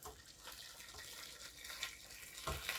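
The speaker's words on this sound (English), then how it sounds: "I'm just gonna put some boiling water in it." Boiling water poured into a pot holding a pigeon for Chinese-style soup, a faint, steady splashing and gurgling stream lasting a few seconds, heard close up without talk.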